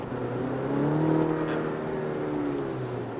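Chevrolet Colorado pickup truck with a 2.7-litre inline-four engine accelerating: a steady, rising engine drone with rough harmonic growl, heard from close by over several seconds with no talking.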